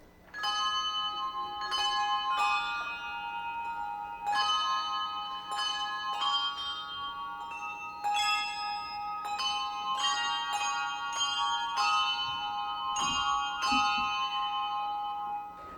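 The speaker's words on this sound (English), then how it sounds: "we're going to add a melody in the treble bells" Treble church bells at Whitechapel ring out a melody over a steady background peal, bright overlapping strikes in an uneven rhythm, loud and resonant, with no voices.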